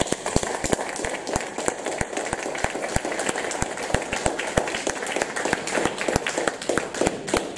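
Church congregation applauding at a wedding service, crisp individual claps in a brisk, irregular rhythm, close and sharp against a softer wash of clapping from the room, with a little murmuring.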